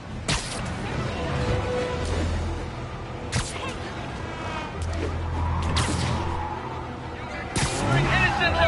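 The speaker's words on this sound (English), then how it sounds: "I gotta stop that car" Car engine hum and tire skids in Spider-Man on PS4, with whooshing bursts and several sharp screeching swerves over a steady motor drone, mixed with game music and effects.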